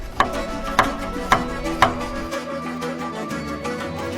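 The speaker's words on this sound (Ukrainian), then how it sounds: "Нарізаємо червону цибулю." Knife chopping red onion on a cutting board for a Georgian pepper and eggplant salad, four sharp, evenly spaced chops up close, followed by quieter kitchen background.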